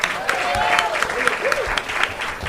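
A comedy club audience at the Comedy Store claps in steady, close applause, with a voice speaking over the clapping.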